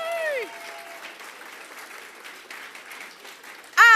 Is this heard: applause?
yes